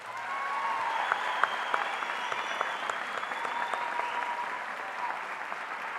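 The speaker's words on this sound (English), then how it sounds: "Please give our 8th graders a nice round of applause" A crowd claps steadily in a sustained round of applause for 8th graders at a middle school promotion ceremony, even and moderately loud, heard from a little distance.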